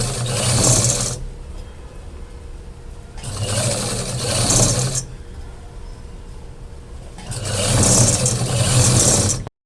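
Sewing machine stitching around the edge of a fabric potli pouch in three loud bursts of about a second or two each, separated by quieter gaps, with no talk.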